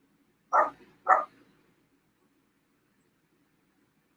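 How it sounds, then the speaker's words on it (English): Two distinct dog barks ring out in quick succession from a moderate distance in a quiet room, followed by silence. "You can probably hear my dogs barking in the background."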